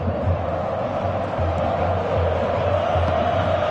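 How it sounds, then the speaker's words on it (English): Steady crowd noise from a stadium in the football video game Pro Evolution Soccer 2017, a continuous broad roar of murmuring spectators filling the background at an even level. "Crowd appreciates good football all round there"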